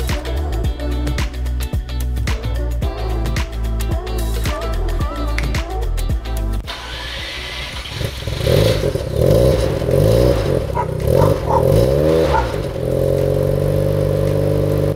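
A Mazda RX-7 FC3S rotary engine idles close by with a steady, choppy pulse, then revs hard, rising and falling in loud bursts.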